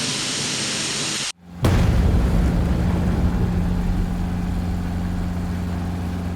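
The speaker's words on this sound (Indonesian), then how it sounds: "Torpedo adalah rudal mandiri yang besar yang dirancang untuk meledak di lambung kapal atau kapal selam." A torpedo explosion effect: a steady roar cuts to brief silence, then a heavy, deep boom swells into a loud, sustained low rumble that slowly fades.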